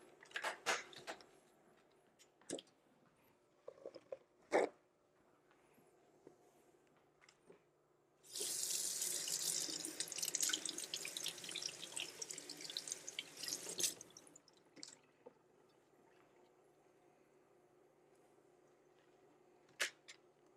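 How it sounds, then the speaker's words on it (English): Strawberries are rinsed under a running kitchen tap, giving a close, steady gush of water for about six seconds. Scattered drips, clicks and handling knocks come before and after it in an otherwise quiet room. "We'll wash our strawberries and we can prep them for easier dipping."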